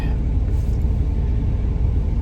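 Sitting inside a pickup truck, a low, steady engine rumble hums throughout the short stretch, with no talk over it.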